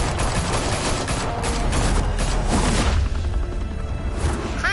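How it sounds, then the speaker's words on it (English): Loud, dense gunfire erupts in the Batman Telltale game, a rapid barrage of shots and crashing impacts that fills the scene and tapers off into a quieter rumble near the end. "Open fire!"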